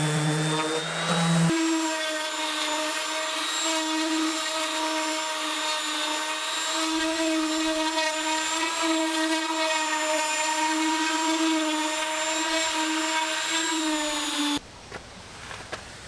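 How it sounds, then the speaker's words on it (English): A power sander works cabinet wood down to 150 grit outdoors with a loud, steady whine and a strong hum that holds for about thirteen seconds and then cuts off abruptly. "So I'm going to sand down to 150 grit."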